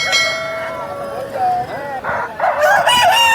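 A rooster of about three kilograms at a rooster market crows repeatedly, its drawn-out harmonic calls rising and falling, close by over a steady noisy background with some clucking.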